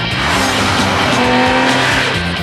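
A Nissan Altima, named Canadian car of the year, drives hard in a TV commercial with a loud engine roar, tire squeal and skidding, and a dense, steady mix of motor and music-like tones throughout.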